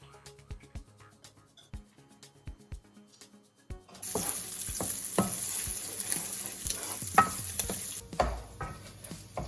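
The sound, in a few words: pancetta crisping in oil in a large pan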